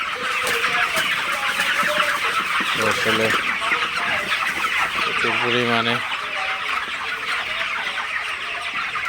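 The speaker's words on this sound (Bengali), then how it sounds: "মুরগি দেখতে পাচ্ছেন মুরগিগুলো পানি খাইতেছে" Broiler chickens, 28 days old, cluck and murmur continuously as a flock while drinking water, with a person speaking briefly over the noise.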